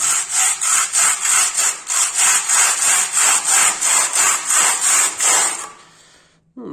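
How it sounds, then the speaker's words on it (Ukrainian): Steady back-and-forth scraping of a float over soft wall plaster, about a dozen even rhythmic strokes, close and loud, then it stops. "ми беремо ось таку терку і починаємо терти нашу штукатурку"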